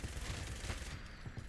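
A minigun fires a continuous rapid stream at super mutants in Fallout 76, a dense unbroken roar of gunfire that keeps going for the whole moment, with no talk over it.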